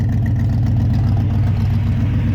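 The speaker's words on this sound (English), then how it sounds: "You heard the engine RPM increase now." Car engine with a Holley carburetor, its idle rising steadily after the ignition timing is advanced; a close, constant low rumble with no talking.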